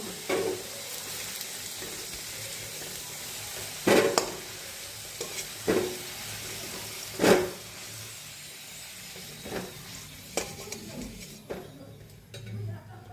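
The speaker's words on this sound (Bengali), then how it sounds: "আলুগুলো লাল লাল করে ভাজা হয়ে গেছে" Cut potatoes with a little turmeric frying in a pan after tempering, a steady sizzle near and low in level, broken by a few sharp knocks and scrapes of stirring.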